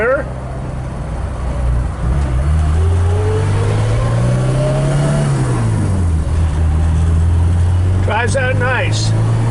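A 1975 BMW 2002 drives out of a U-turn and accelerates down a road near Laguna Beach, its engine note rising and falling through the gears as a loud steady drone, with a brief chirping sound near the end.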